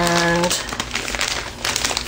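Plastic wrapper of a sticker pack crinkling as it is handled, a loud, close, continuous rustle and crackle after a brief tone at the start, with a person talking over it.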